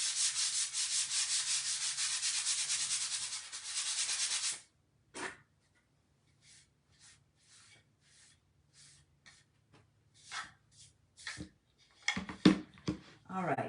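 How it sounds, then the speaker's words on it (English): Hand sanding a pumpkin: a close, steady scratchy rubbing for several seconds, then scattered short scrapes and light handling noises before a brief breathy sound at the end. "Let's just sand that just a little."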